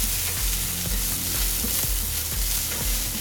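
Leeks and onions frying in a pan for hash, a loud steady sizzle close up with a few light clicks of stirring.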